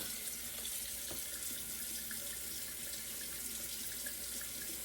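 Tap water runs steadily into a sink during a wash-off after shaving, a continuous faint hiss and splash with no talking.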